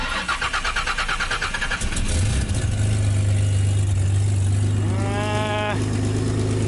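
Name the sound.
Lexus car engine starting from cold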